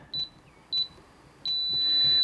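Three electronic beeps from a TEEHO TE002 fingerprint and keypad deadbolt: two short tones, then a longer sustained tone, loud and close, with no talking.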